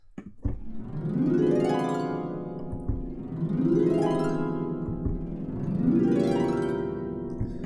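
Three sweeping diminished harp glissandi from a sampled harp library rise and fall in turn, each a rapid run of plucked strings that swells and fades, roughly every two seconds.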